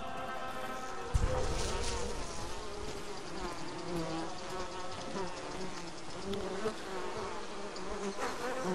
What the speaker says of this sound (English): I'm next to bees.